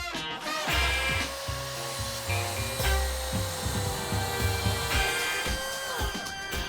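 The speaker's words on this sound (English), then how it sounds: "I'm going to place it in our miter saw, adjust my miter saw to 45 degrees, and then simply cut along those lines" Miter saw set to 45 degrees cutting through wood for a homemade bike rack, a loud close motor whine with the rough grind of the blade biting through the board, sustained for several seconds.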